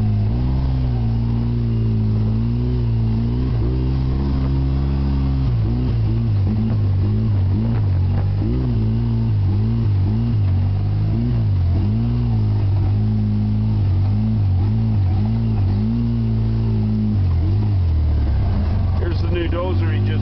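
Polaris RZR 800 UTV driving over a rough, chopped-up dirt track, its engine droning loudly and steadily with shifts in pitch as it revs and eases off, close and continuous for about twenty seconds.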